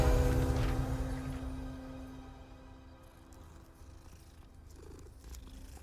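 A cat purrs in the video game Hogwarts Legacy, a steady close rumbling that is loudest at first and then settles softer, with no talking over it.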